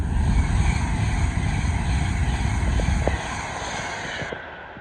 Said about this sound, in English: Pass through now is an Avanti West Coast Class 390 Pendolino from London Euston